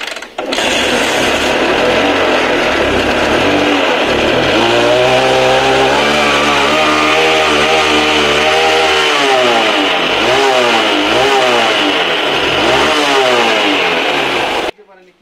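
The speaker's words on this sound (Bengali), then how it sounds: "তো তোমরা দেখলে বাইকটা আমরা স্টার্ট করলাম" A motorcycle engine that had trouble starting fires up and revs repeatedly, loud and close, the pitch rising and falling with each throttle blip before cutting off.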